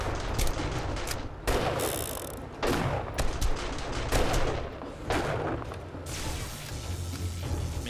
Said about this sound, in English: Maybe it's when my turrets are shooting stuff that you place down is when it makes that noise.